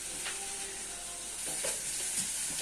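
Tomatoes cook in a hot pan, giving a steady soft sizzle with a few faint stirring scrapes over a short stretch.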